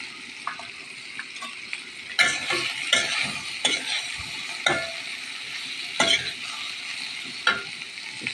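Shrimp with turmeric frying in a pan, with a steady sizzle and repeated stirring scrapes and clinks from a utensil against the pan, close and fairly loud.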